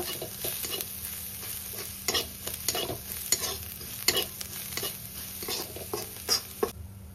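Onions frying with raw mango and asafoetida are stirred in a hot pan, a steady sizzle broken by frequent scraping strokes of the spoon, close and moderately loud throughout.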